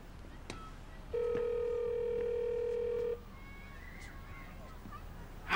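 A telephone line rings unanswered when someone calls an electronics shop: one long steady ring tone lasting about two seconds, fairly loud against a quiet background.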